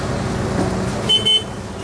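Cars drive onto a river ferry crossing from Divar toward Old Goa, a loud close rumble of road traffic with a brief double toot of a horn midway.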